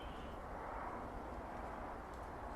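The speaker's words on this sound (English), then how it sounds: "I can hear that airplane above now." A faint, steady broadband roar of a distant airplane passing high overhead, continuous with no other sounds.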